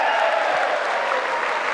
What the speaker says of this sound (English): And everyone's applauding this